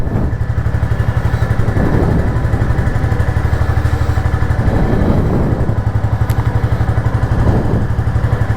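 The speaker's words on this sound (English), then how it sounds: "Cold start." A Royal Enfield Classic 350 motorcycle runs just after a cold start, its single-cylinder engine thumping in a loud, steady, close idle with a slight rhythmic surge.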